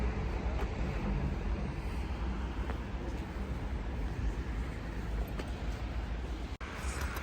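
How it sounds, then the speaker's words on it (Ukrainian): A car engine runs steadily at idle at a used-car lot in Wroclaw, Poland, a low continuous rumble with faint background hum and one brief click near the end. "Чуєте, як звучить справжній мотор?"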